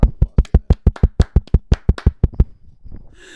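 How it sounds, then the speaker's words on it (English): Roughly fifteen sharp, evenly spaced claps close by, a quick steady rhythm that slows and softens into a few faint taps before stopping, like a small group giving a brief round of applause. "Round of applause for Sam."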